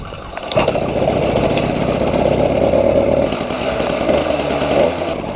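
A motorized bicycle engine with a cracked frame idles steadily while warming up, a loud, close, buzzing two-stroke drone running alone without talk.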